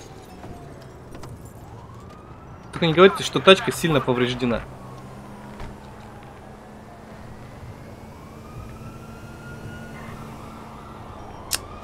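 Police sirens wail in GTA 5, rising and falling across a street scene, moderately loud and sustained under a burst of male speech in Russian.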